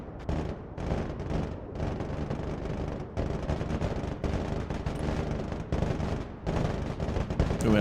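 Enemy artillery fire in the war video game Broken Arrow: dense, continuous rumbling barrages of blasts and booms, loud and close, rolling on with brief dips throughout.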